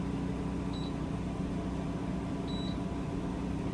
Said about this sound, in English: always make sure it beeps when you're using the remote